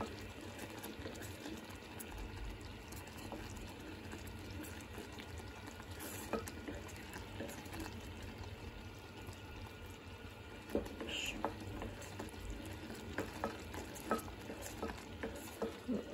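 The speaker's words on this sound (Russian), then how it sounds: "Варенье там кипит," Thick raspberry and currant jam with agar-agar bubbling in a pot while a spoon scrapes and stirs, with soft pops and occasional clinks, fairly faint and close.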